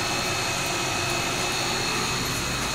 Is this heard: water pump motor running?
yes